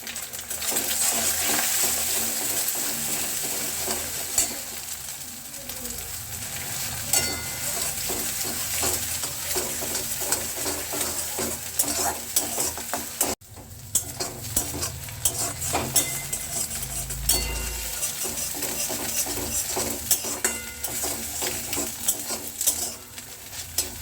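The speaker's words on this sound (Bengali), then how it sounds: "এবার আমি দেবো অল্প পরিমাণে নুন দিয়ে এটাকে ভালো করে ভেজে নেব।" An egg fries with salt in a pan at home, giving a steady close sizzle broken by frequent scraping and tapping of a utensil against the pan.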